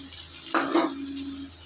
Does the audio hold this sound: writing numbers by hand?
no